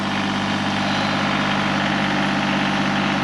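Tractor engine idling on an Alaskan homestead, a steady loud low rumble with constant vibration and no change in speed, close and continuous for a few seconds.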